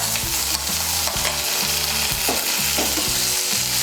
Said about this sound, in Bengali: টমেটো কুচিটাকে তেলের সঙ্গে মিশিয়ে নেব।